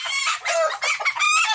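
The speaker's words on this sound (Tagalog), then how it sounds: "kapagkaingay ng mga manok" Chickens cluck and crow loudly and close by near a pig pen on a muddy farm, overlapping bursts with a rooster's drawn-out crow, no talking.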